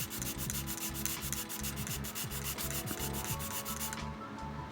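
Steady scratchy rubbing of sandpaper working back and forth over a hard 3D-printed plastic box in quick repeated strokes, close by, with no talking.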